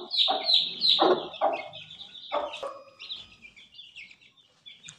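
Silkie and Aseel chickens with chicks, a close, insistent run of rapid high-pitched peeping and clucking calls that fades to softer chirps.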